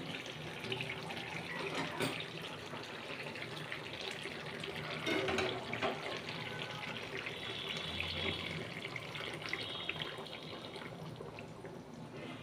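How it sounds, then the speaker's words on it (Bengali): Boiling hot water pours into a pan of cooked deshi chicken, a steady, splashing liquid rush that runs unbroken for about twelve seconds, close and moderately loud, with kitchen clatter and no talking. "এবার আমি এর ভিতরে দিয়ে দেব গরম জল।"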